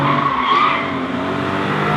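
Porsche 718 Cayman GT4 with a naturally aspirated four-litre flat-six boxer engine, driven hard with a steady, loud, close engine note that holds a high whine throughout, with no talk over it.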